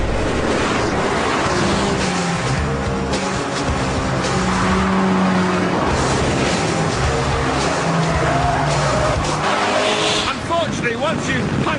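A KTM X-Bow, an open-cockpit car without a windscreen, drives on a race track with a loud continuous engine roar and rushing wind noise that fill the whole clip, while someone talks over it.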